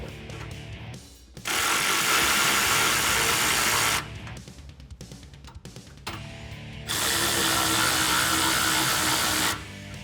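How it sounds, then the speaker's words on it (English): Ratchet with a 13mm socket tightening bolts on a side step bar mounted to a 2019-2021 Silverado or Sierra 1500 HDX, loud rapid clicking in two long bursts separated by slower, lighter clicks. "Grab a 13mm socket and tighten them down."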